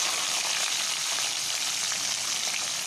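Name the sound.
cumin, dried chili, bay leaf and onion sizzling in oil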